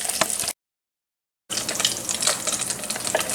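Jalapeño poppers stuffed with cream cheese fry with a close, crackling sizzle and bubbling, cut by a brief total dropout before the frying noise returns.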